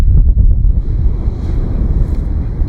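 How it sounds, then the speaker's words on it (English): Strong wind roars across a Danish beach lined with sand dunes, loud and steady with heavy buffeting on the microphone. Faint surf sits beneath it, and no one speaks. "So the wind has in fact continued and it keeps on getting stronger."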